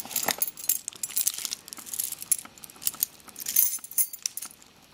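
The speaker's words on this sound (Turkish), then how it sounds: "Böyle anahtarlarım var," Keys jangling inside a handbag, a quick run of bright metallic clinks and rattles in bursts, close up and alone without speech.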